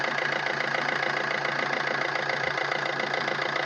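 A 2012 Maruti Ritz VDI diesel engine idles steadily, a close, even, continuous rumble with a fine rapid clatter and no change in revs.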